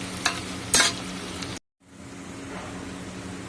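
Onions frying until brown for halim, a steady crackling sizzle broken by two louder stirring scrapes early on, a brief dead gap, then the hiss resumes evenly.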